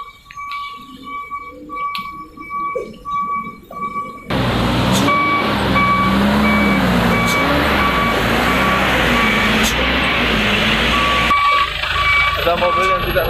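A truck manoeuvring on a mountain road at Sitinjau Laut, steady reversing beeps repeating over a loud engine rumble and traffic noise, with someone talking at first before the engine noise swells close by.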